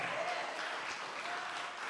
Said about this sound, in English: Let's give the winner a round of applause